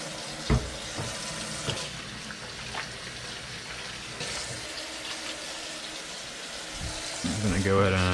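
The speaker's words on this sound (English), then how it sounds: "So I'm gonna go ahead and wash my hands." A sink tap runs steadily while hands are washed beneath it, a continuous close splashing hiss with small bumps and splatters, a louder burst of flow near the end.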